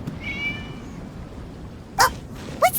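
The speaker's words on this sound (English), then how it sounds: "It was just a cat." A game cat from Genshin Impact gives a thin, high meow early on, followed later by short bright chirps over a steady low background.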